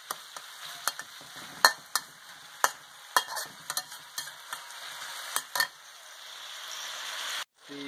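Country ham pieces stir-fried in a pan with tofu give off a steady sizzle, broken by sharp scraping clicks of the utensil at irregular intervals, fairly close and alone.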